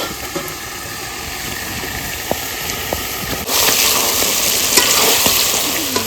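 Duck meat sizzles and fries steadily in a hot pan, with occasional stirring scrapes; the frying grows louder and brighter about halfway through and continues without pause, with no talking.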